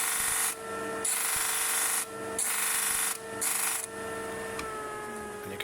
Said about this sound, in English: so you can just tidy it up on the disc sander afterwards